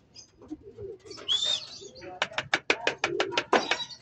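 Pet pigeons in Alaminos, Laguna, call up close. Soft coos and chirps give way to a quick, evenly spaced train of sharp pulsing notes.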